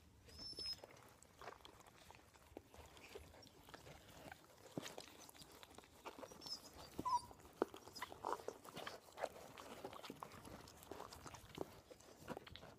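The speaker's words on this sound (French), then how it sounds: "Ma chienne est en train de mettre bas" A female dog whelping a litter of puppies, heard as faint, scattered squeaks and soft whimpers over quiet rustling and shuffling in a calm indoor space, with no talk.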